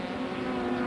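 A SuperTurismo race car on the Rosario circuit, sliding sideways after clipping a kerb, its engine a steady sustained drone held at constant loudness through the short moment, with no voices.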